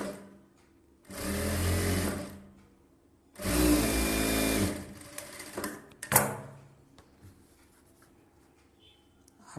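A sewing machine stitches a blouse in two short bursts of rapid, close mechanical whirring separated by quiet gaps, followed by a few faint clicks.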